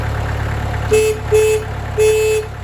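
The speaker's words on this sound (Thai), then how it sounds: "นี่นะครับผมก็สตาร์ททีเดียวนะครับเครื่องยนต์โอเคหมดนะครับ" A Kubota L4508 tractor from 2009 runs with a steady, close diesel hum, and three short tonal beeps or squeals sound over it at a fairly even pace.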